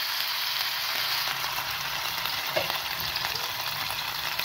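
Chapli kebab patties frying in oil on a hot tawa griddle over medium flame, a steady dense sizzle and crackle running without a break, close and even in loudness.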